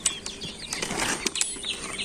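Caged quail flapping their wings nearby, a quick scatter of soft fluttering bursts and rustles over about two seconds, close and fairly clear.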